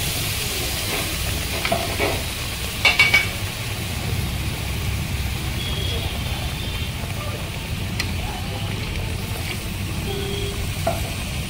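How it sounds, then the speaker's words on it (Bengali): Spice paste fries on a low flame with a continuous, moderate sizzle, broken by a few light scrapes and clinks of a utensil against the pan. "একদম হালকা ফ্লেমে ভাজবে"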